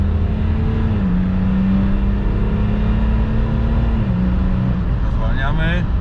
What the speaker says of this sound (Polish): Cały gaz.